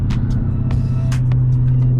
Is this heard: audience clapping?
no